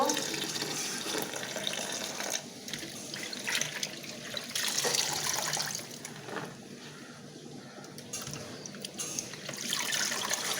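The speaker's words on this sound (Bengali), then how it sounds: "পরিষ্কার করে ধুয়ে নিচ্ছি" Water spinach greens are washed under a running kitchen tap before being cooked with dried fish, with a steady, close rush of flowing water and splashing that continues throughout.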